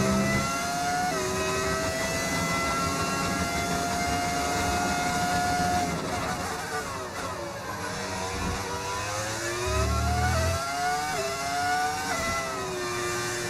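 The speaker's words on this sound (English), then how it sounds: "How do you do the engine sound? It's a mod that you can find on Overtake." A modded racing car engine in the F1 25 video game wails steadily and loudly throughout, its pitch climbing and dropping through gear changes and shifts in throttle, with no voices over it.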